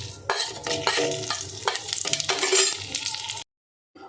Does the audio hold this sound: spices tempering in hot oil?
yes